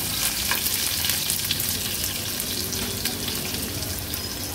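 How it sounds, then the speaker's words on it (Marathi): Crushed garlic cloves and green chillies sizzle in hot oil in a pan, a dense, steady, close frying hiss with faint crackles and no talk. "लसूण आणि मिरची तेलावर आपण परतून घ्यायचंय थोडं"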